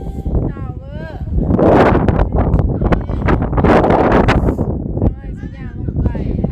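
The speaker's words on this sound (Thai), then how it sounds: "ลมเย็น" Cold sea wind buffets the microphone by the sea at Pohang, South Korea, with loud, gusty rumbling that swells in the middle while someone talks over it.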